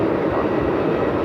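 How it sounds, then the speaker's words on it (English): Aircraft engines run at Melbourne Airport, giving a loud, continuous roar that stays steady throughout, close by and with no voices over it. "Looks like they're just about to shut off the engines now."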